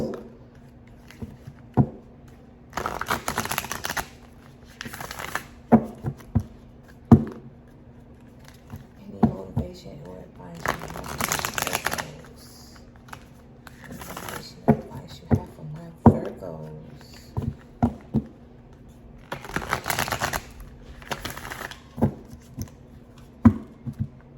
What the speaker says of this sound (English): let's get a few more shuffles